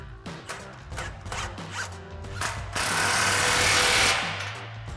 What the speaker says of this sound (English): tighten it down with a 15 millimeter socket